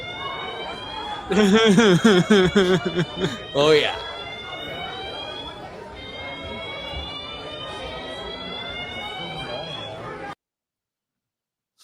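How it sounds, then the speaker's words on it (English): A fire alarm blares in a steady, continuous electronic tone for about ten seconds, with voices talking and exclaiming over the opening part before it continues alone. "Someone pulled the fire alarm."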